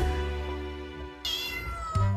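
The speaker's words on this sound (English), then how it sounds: "And she meowed back at him." A young rescued kitten gives a couple of short, high meows close by, with a brighter, sharper cry near the end, quiet overall and with no talk.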